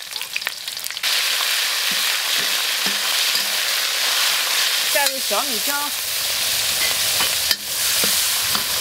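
Ginger, chili and bean paste stir-fry in a hot wok with a steady, loud sizzle and scraping, while a voice briefly speaks over it.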